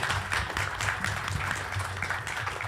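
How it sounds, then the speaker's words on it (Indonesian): An audience at a provincial mini-football committee meeting in South Sumatra, Indonesia, breaks into a brief burst of dense, even clapping. "Tepuk tangan dulu."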